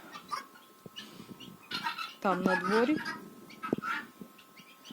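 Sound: chickens clucking

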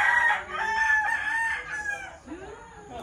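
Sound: chicken, rooster crowing

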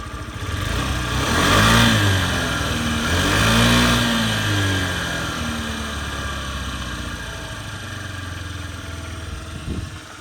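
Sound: scooter engine running

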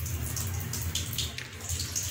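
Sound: washing garlic and green chilies in water

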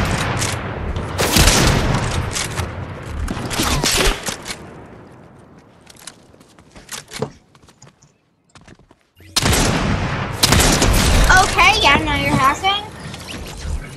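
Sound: sniper gunfire in the video game Fortnite

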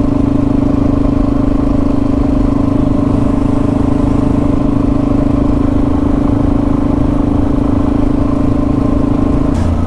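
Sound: motorcycle riding on a country road

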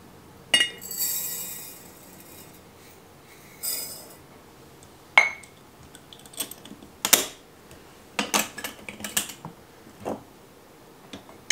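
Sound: coarse salt being measured into glass jars

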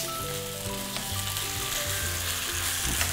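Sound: curry paste frying in hot pan

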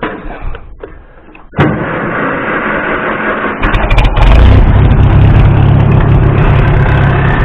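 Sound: International tractor engine started and running

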